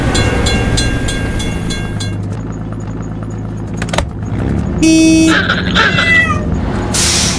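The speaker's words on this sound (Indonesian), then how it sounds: "Gerbang penyeberangan ditutup. Kita harus menunggu hingga kereta lewat." Cartoon level-crossing scene in a children's construction vehicle game: a bright electronic bell and warning chime ring out amid busy game music, with a short whoosh and rumble as the toy train goes by.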